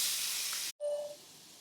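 Soya chunks, soaked in hot water and rinsed, go into a hot pan for frying: a steady broad hiss for about half a second, a brief drop to silence, then a softer sizzle continuing to the end.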